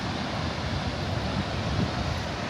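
Steady, loud wind roars close to the microphone at the Montmorency Falls, blending with the broadband rush of falling water and blowing spray, unbroken and without speech.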